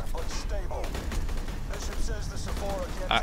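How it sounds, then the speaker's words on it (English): A gun fires in the video game Aliens: Colonial Marines as a steady stream of rapid, thin shots, with game voices and other sounds mixed in throughout. "This gun sounds bad."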